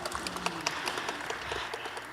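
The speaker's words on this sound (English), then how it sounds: "I think that's worthy of applause" Audience applause following a concert recital program, a steady wash of many hands clapping at moderate volume, with a few brief voices underneath.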